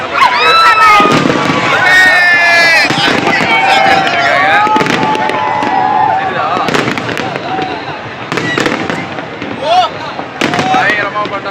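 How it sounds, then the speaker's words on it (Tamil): New Year fireworks bursting over a crowded celebration in Singapore, with repeated cracks and pops mixed with loud whistling and crowd noise; people shout and talk close by throughout. "பயங்கரமா பட்டாசு வெடிச்சிட்டு இருக்கேன்."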